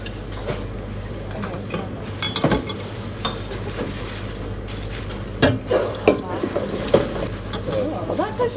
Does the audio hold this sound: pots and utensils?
yes